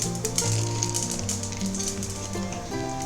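Mustard seeds, fenugreek and asafoetida sizzling loudly in hot oil for bitter gourd pitla, a dense continuous crackle with rapid popping and a tonal hum underneath.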